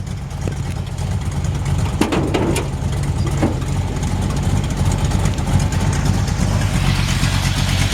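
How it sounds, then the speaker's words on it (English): A 1968 Plymouth Sport Fury with a classic-style exhaust and a possible minor exhaust leak idles steadily, giving a deep, rumbling burble close by, with a few faint ticks and clicks over the even drone. "Really, really nice sounding, this classic style exhaust."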